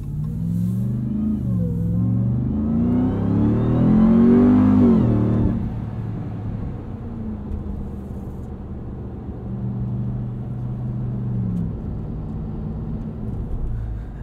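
A 2021 Ram 1500 TRX pickup truck drives and accelerates at night, its engine rising loudly in a revving sweep that peaks then drops back to a steady, close rumble.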